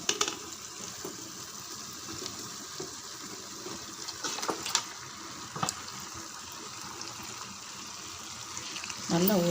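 Marinated chicken with raw ginger, garlic and yogurt goes into a pan of masala, giving a soft, low sizzle with scattered clinks and scrapes of a spoon, and a louder burst of frying near the end.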